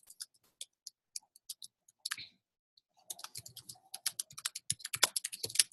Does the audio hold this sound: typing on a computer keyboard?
yes